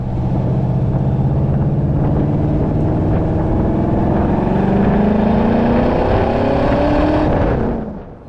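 An AK Sportcars Cobra's 5.7-litre Chevy V8 roars through side pipes, a loud, continuous burbling drone that climbs steadily in pitch as it accelerates before tailing off at the end.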